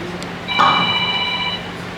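A mobile phone rings once with a short electronic ringtone, a steady high tone lasting about a second, heard nearby against a faint room background.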